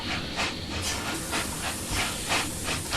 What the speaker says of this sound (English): The sound of a steam engine pulling out of Newtondale Halt is quite immense, the way it rattles around the valley.